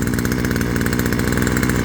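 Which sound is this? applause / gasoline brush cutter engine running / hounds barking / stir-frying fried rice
gasoline brush cutter engine running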